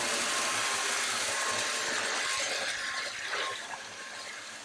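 An INSE S610 cordless stick vacuum runs with an attachment fitted, a loud continuous close-up whine and airy rush that eases slightly toward the end, cleaning a basement corner.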